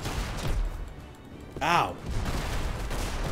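Gunfire from a gun in the video game Magicka, one loud burst partway through, with a brief voiced exclamation over it and game noise around it.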